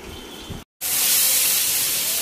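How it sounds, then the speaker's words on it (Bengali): Eggplant fries in hot oil with a loud, dense, steady sizzle close by. It follows a short crackle and a brief moment of silence. "এখন আমি বেগুনটাকে ভালোভাবে ভেজে নিচ্ছি"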